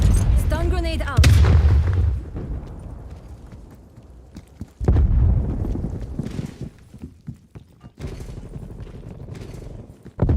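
Stun grenade going off in a multiplayer shooter game, sharp loud bursts among gunfire-like booms and thuds, with quieter stretches of game noise between.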